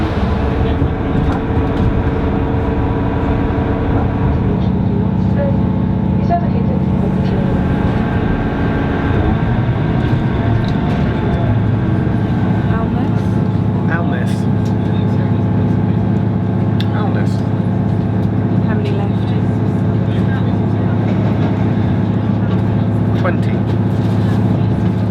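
A steady mechanical rumble and hum of a moving train fills the space, continuous and fairly loud, with occasional clicks and rattles over it.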